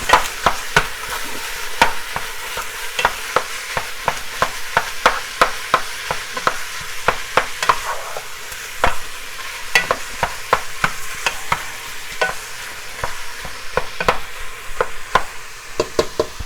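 Venison meat browns in a pan for homemade spaghetti, giving a steady loud sizzle broken by frequent sharp clicks and scrapes of stirring, close up and with no talk.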